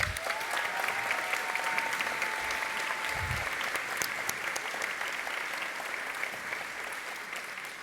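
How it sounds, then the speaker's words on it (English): Steady sustained applause from a large audience at a high school graduation ceremony, filling the whole stretch at moderate distance and fading slightly toward the end. "how about a round of applause for the organizing committee?"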